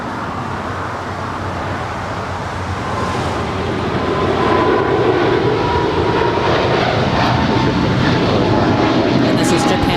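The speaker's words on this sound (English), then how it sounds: "this is Japan Airlines Flight 15. Heading to Tokyo Haneda, 777-300ER" A Japan Airlines Boeing 777-300ER, delivered in 2007, rumbles with a broad jet roar at LAX that swells louder midway and holds steady, with faint voices in the background.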